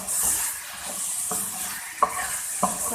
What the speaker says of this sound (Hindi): कीमा ऐड कर दिया और अच्छे से भूनूंगी